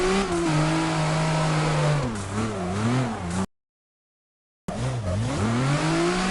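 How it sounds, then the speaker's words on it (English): A Nissan Skyline in a video game revs hard while drifting, its engine note rising and dipping in wavering sweeps, then cuts out for about a second before returning with more swooping revs; no voices. "This is just like my chill car. It's like it's a Skyline. Super nice to drift."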